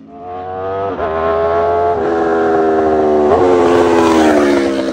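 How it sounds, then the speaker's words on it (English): An Aprilia RSV4 superbike fitted with an SC Project GP22 slip-on exhaust screams past at high revs, a loud, harsh engine note climbing through quick gear changes and staying close throughout. "the vibration that this GP22 slip-on exhaust sends through your bones, just, it makes you feel that much more connected to the RSV4"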